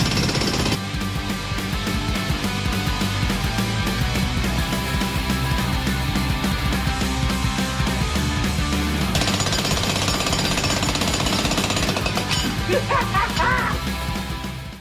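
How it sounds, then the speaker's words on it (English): A jackhammer breaks ground deep inside an underground shelter dig, pounding continuously and loudly with a dense, rapid rattling that barely lets up for the whole stretch. "Let's get jackhammering. We need to jackhammer, people."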